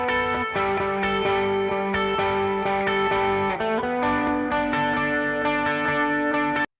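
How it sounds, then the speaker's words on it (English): A distorted electric guitar plays sustained chords with a shimmering chorus and reverb tail, loud and steady throughout with no voices. "Then we got a bit of reverb afterwards,"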